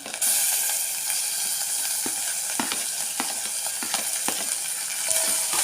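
Tomatoes and curry leaves hitting a hot pan for dosakaya dry fish curry, giving a steady close sizzle with faint stirring clicks scattered throughout.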